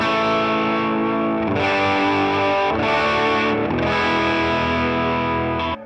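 Gretsch Masterbuilt electric guitar played through an amp's gain channel on the middle pickup, loud distorted chords ringing out in a few strummed phrases with sustained overdriven tone.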